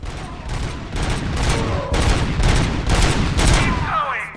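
A Cobra assault cannon fires in the RoboCop: Rogue City video game, a loud, close volley of rapid heavy shots in quick bursts.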